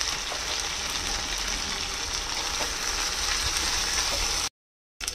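Light river fish curry frying in a pan with turmeric and salt, a steady dense sizzle that runs unbroken and fairly loud, then cuts out briefly near the end.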